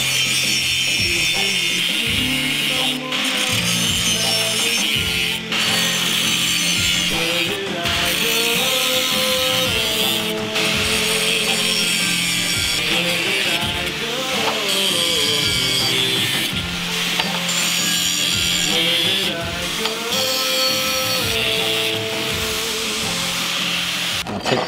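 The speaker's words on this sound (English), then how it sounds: "I'm gonna cut them out with the angle grinder" An angle grinder cuts 5-inch sections of angle steel for a homemade flail maul, a loud continuous grinding whine that runs the whole time with little let-up.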